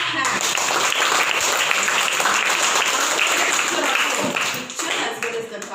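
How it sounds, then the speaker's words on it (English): Students in a classroom clap their hands together, a steady dense patter of applause lasting several seconds before tapering off. "Clap hands."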